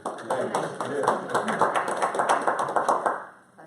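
Scattered clapping from a small group at a town board meeting, a few seconds of light, uneven applause that fades out at the end, with talking mixed in.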